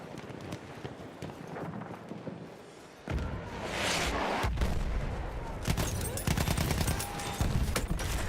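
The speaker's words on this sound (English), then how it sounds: "Oh, rifle grenades. That's why." Rifle grenade explosions in the World War I shooter Battlefield 1, heavy blasts and gunfire crackling amid constant battle noise, a big burst near the middle and more impacts toward the end.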